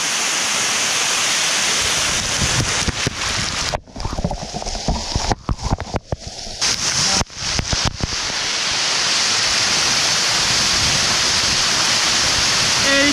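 Khoiyachora waterfall at Sitakunda roars loudly and continuously at close range. The roar breaks into choppy, fluttering gusts midway, then returns to a steady rush.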